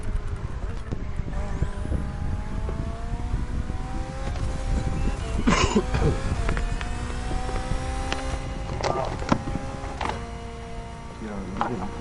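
BMW hybrid V8 race car engine in the racing game The Crew Motorfest: a steady, loud rev with rising pitch sweeps as it climbs through the gears, plus a few sharp mechanical clicks along the way.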